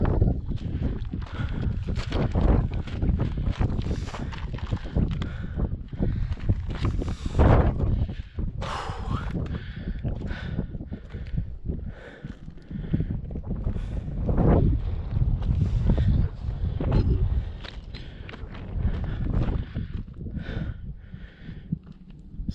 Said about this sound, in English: It's windy, a little cool. It's certainly breezy up here.